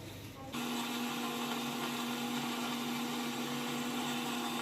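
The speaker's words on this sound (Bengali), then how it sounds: "চারটা ডরিও বিস্কুট দিয়ে দিছি এখন এটা ভালোভাবে ব্লেন্ড করে নিব" A blender whirs loudly and steadily as it blends cafe-style cold coffee with four Oreo biscuits, made without ice cream; the motor kicks in after a brief quiet moment and holds a constant hum.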